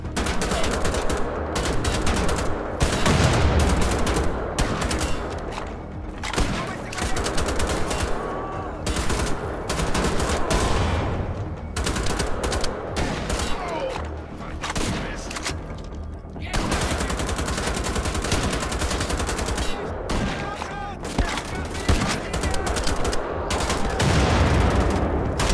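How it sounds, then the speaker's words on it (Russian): Automatic rifle fire in Wolfenstein: The Old Blood, loud dense bursts of shots nearly continuous throughout, with brief lulls and someone talking at times. "Дайте я один автомат возьму."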